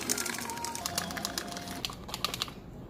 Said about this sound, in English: I prefer to use a hand whisk rather than the machine because it's like a workout for me.